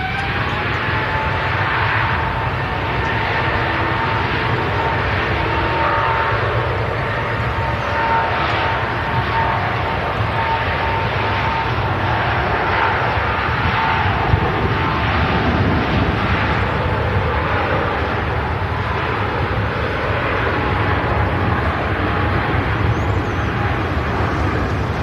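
Airliner taking off on a long-haul flight to Singapore, a continuous loud jet engine roar with a broad rumbling, steady throughout and heard from an outdoor spotting position without talk.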